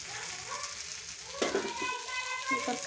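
Vegetables fry in a pan with a continuous close sizzle, broken by a few stirring knocks, while faint talk sounds in the background.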